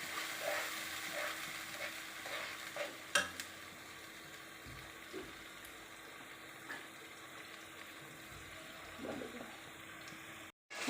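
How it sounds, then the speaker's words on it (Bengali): Spice paste of ground nuts and fennel being stir-fried in a pan for a whole-fish roast gravy, a soft steady sizzle with occasional stirring scrapes and clinks, close and continuous without talk. "দিয়ে আমি মশলাটা ভুনাই নিব"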